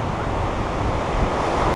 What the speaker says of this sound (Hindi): लहरें बहुत तेज़ हैं यहाँ पर